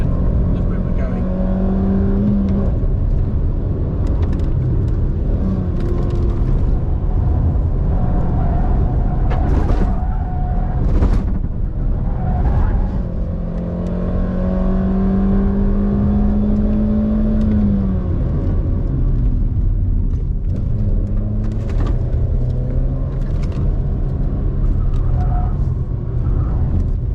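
A car speeds around the North Weald race track, engine note rising and falling through gear changes and throttle lifts, loud and continuous from inside the cabin, with an instructor talking over it.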